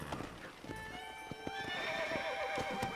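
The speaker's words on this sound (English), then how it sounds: "Here's the horse." A horse in the video game Red Dead Redemption whinnies loudly nearby over the clip-clop of hooves, the neigh rising and trailing off as the hoofbeats continue.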